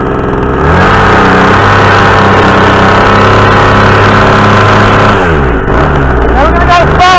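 Homelite weed wacker two-stroke engine after a complete rebuild, revving loud and close at full throttle with a high buzzing whine that holds steady, then dips and climbs again near the end.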